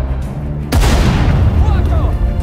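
A sharp booming blast opens a stretch of heavy artillery and gunfire in the World War II strategy game Sudden Strike 4, desert battle setting, the rumble and crackle staying loud and dense, with shouted commands over it.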